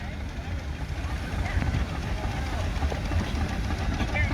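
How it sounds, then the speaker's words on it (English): A miniature Burrell traction engine runs in an outdoor parade at Rempstone, giving a continuous low rumbling chug amid broad crowd and outdoor noise, with people talking throughout. "There's a Burrell traction engine"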